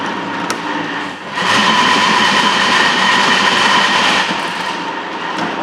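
A metal planer takes a full-depth cut on a 45-degree angle, giving a loud, continuous grinding, scraping rumble that swells after the first second and carries on steadily.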